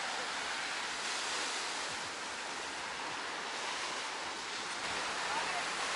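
Sea surf rolling onto Incekum beach in Alanya, Turkey, a steady broadband wash of waves heard close and continuous for the whole stretch, with no clear breaks and a faint hint of wind.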